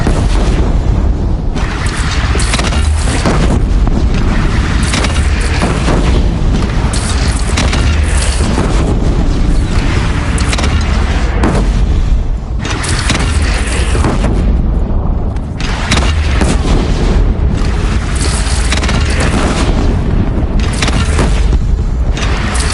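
Cannon fire in Horizon Zero Dawn during a bandit clan battle, with heavy booming blasts repeating through a continuous loud din of combat rumble and mechanisms, no clear talk over it.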